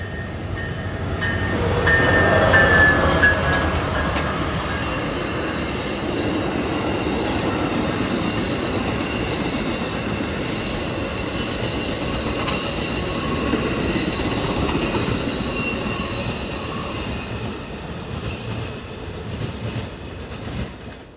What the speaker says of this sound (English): The next train we saw was Amtrak 41 eastbound.